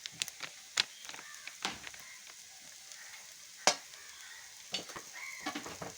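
Coriander powder fries in a pan for a duck curry, with a low sizzle under sharp, intermittent scrapes and clinks of a spoon stirring, quiet and close with no talking.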